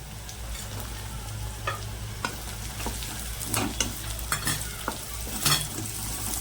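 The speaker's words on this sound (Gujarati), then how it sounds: "ગાજરને શેકી લેવાના છે" Onions, chillies, garlic and carrots fry in a pan for Indian-style pasta, a steady close sizzle with scattered scraping stir clicks and spoon taps throughout, no voices.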